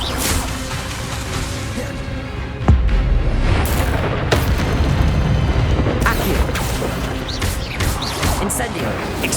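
Incendio and Expelliarmus spells are cast in Hogwarts Legacy, producing repeated booming blasts and swooshing magical whooshes over a busy combat backdrop, loud and close.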